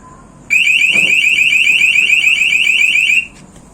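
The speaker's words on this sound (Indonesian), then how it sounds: "Jadi dia langsung bunyi kencang banget." A motion-sensor house alarm wails loudly and continuously for nearly three seconds, a piercing rapidly warbling tone that starts abruptly and cuts off just as suddenly.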